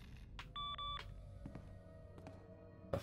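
A tablet in the game Locker Simulator gives a quick pair of electronic beeps amid faint ambient game sounds, with a few sharp clicks around it.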